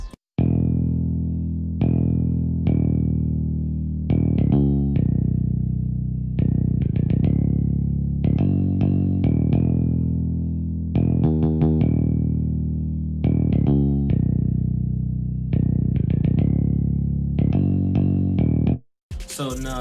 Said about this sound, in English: The very hard finger bass,